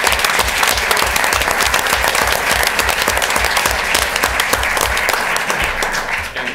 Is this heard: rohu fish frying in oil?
no